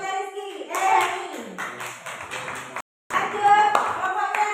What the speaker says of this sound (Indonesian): Ayo tepuk tangan buat kelompoknya Rizky.